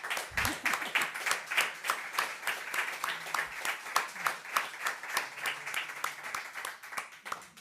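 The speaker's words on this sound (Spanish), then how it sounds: "Toca un aplauso, ¿no?" An audience at a talk applauds, many hands clapping in a fast, even rhythm that holds steady for several seconds, moderately close, with a brief voice at the start.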